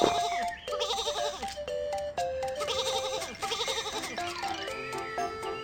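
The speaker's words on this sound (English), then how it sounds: "Some sheep are on the train track." Video game sheep standing on a train track bleat repeatedly in overlapping, wavering cries, loud and close, with game music running underneath throughout.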